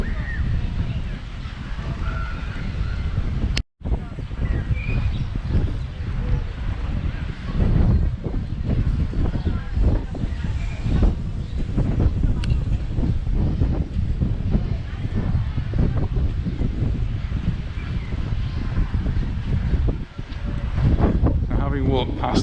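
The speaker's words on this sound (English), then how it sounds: "We're now getting into an area where it's a little bit more exposed and the wind's picking up yet again." Strong wind in an exposed coastal area of Palmanova, Mallorca, buffets the microphone as a loud, continuous roar with gusty rumbling throughout, and a brief dropout near the start.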